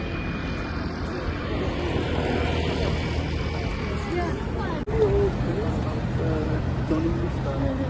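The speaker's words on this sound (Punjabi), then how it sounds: "ਇੱਥੇ ਜਹਾਜ਼ 5-5 ਮਿੰਟ ਬਾਅਦ ਇੱਥੋਂ ਦੀ ਨਿਕਲਦੇ ਆ" A steady airplane engine drones overhead near Buckingham Palace, London, a broad continuous rumble, with people talking and chattering nearby throughout.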